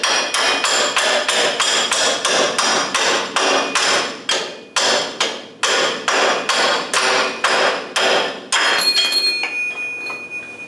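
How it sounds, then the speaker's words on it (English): A hammer strikes steel repeatedly while driving a bolt out of a vehicle's front suspension, giving rapid, loud, ringing metallic blows in a steady rhythm with a few brief pauses. "I just, hammered it that way, and that bolt is out of the one side"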